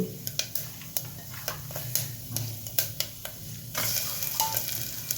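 Garlic cloves hit hot oil already seasoned with asafoetida, fenugreek and dried red chillies for a bitter gourd tamarind curry: a steady soft sizzle broken by sharp ticks and spoon scrapes.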